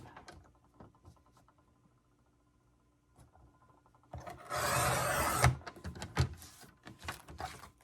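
A hand tool cuts a board in a few faint scrapes, then a loud, rough rasping run of about a second, followed by quicker, uneven strokes close by.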